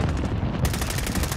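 Rapid automatic gunfire in Call of Duty rattles loud and close in a dense, continuous burst with no pauses across the short stretch.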